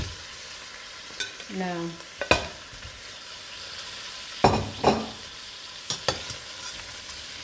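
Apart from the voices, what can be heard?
pork pata (pork leg) frying in a pan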